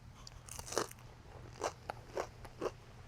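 Crunchy toast is bitten and chewed alongside a Provençal shrimp broth: one sharp crunch followed by several shorter, close crackling chews, with no talking.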